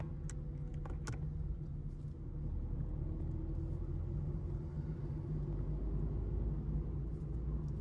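Car cruising along empty night roads in Noida, a steady low engine and tyre rumble holding evenly throughout with a few faint ticks early on, no voices.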